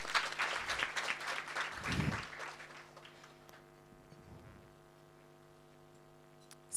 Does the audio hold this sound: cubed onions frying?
no